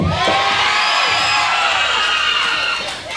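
A large crowd at a wrestling show cheers, whoops and yells in a loud, sustained roar close to the listener, with children's shouts mixed in, easing slightly at the very end.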